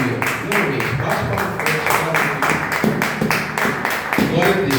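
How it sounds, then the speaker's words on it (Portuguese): A church congregation claps hands in a fast, steady rhythm that fills the room. "Você pode glorificar a Deus com suas palmas também?"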